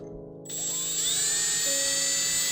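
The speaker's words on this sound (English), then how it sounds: "what you do is you kind of just drill through the magnet from the back." A drill bores through a magnet from the back, whining up to a steady high-pitched tone after a brief quiet start, close and loud, with no talking.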